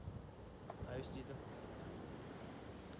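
Sea waves and wind along a shoreline, a faint, continuous low rumble of surf with gusty wind buffeting the microphone and a brief voice in the background.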